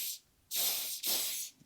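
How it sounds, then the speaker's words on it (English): A WD-40 aerosol can used while rebuilding a Traxxas Velineon 3500 RC motor, heard as three short, close hissing sprays, the last two longer and back to back, with no voices. "now we got our WD-40"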